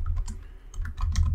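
Typing on a computer keyboard while writing code, a close, quick run of light key clicks in an irregular rhythm, with no talk.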